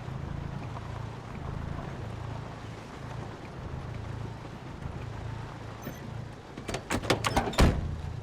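A car in Project Zomboid drives slowly through a junkyard over bodies, its low engine hum steady and muffled before a quick series of sharp clunks and bumps near the end.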